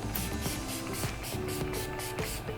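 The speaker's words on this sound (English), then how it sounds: "Whenever I use this spray, it just locks in my makeup forever." A makeup setting spray misted in a series of short close hissing bursts, about eight quick puffs at a steady rhythm.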